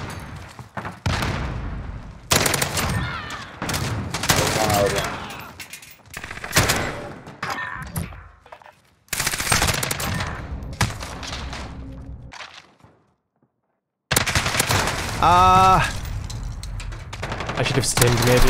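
Holger rifle gunfire in an online shooter video game comes in rapid bursts of close, loud shots, broken by short gaps and one silent stretch, with heavy game action around it.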